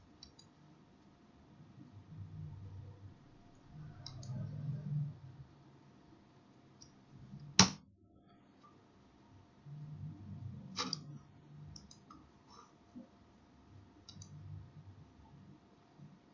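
Mouse and keyboard clicks on a PC while an IP camera is set up in a web browser: a few faint, sparse clicks and one crisper, louder click midway, over a low background murmur.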